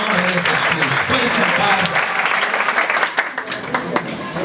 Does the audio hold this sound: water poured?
no